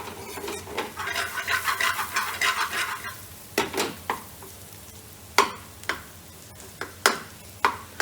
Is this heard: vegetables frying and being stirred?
yes